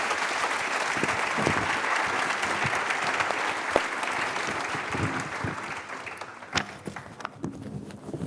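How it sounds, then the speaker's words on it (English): An audience applauds a panel at the close of a digital literacy teaching discussion, with steady dense clapping that carries through and thins slightly toward the end, a few sharper claps standing out. "let's have a nice round of applause for the panel"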